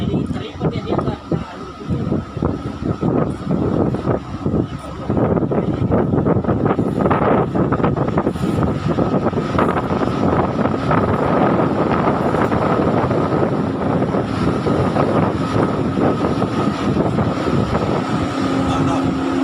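A Vietnamese boat at sea beside a big ship, its engine a loud continuous rumble mixed with wind buffeting the microphone and splashing water, while people talk throughout.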